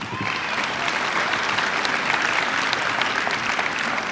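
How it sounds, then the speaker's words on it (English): Loud, dense applause from an audience at a senior award night fills the room evenly and without pause, with no voices over it. "Let's give a round of applause to this new enlistee."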